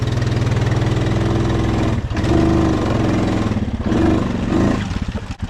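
A Honda Rubicon ATV on new oversized tires labors up a steep hill, its engine droning loud and steady with a few dips and surges in pitch as the load shifts, close by and with no talk.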